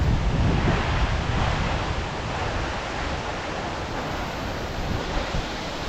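Broad steady rush of falling water at Siddheshwar waterfall near Alibaug, mixed with gusting wind buffeting the microphone, loud and continuous throughout with no pauses.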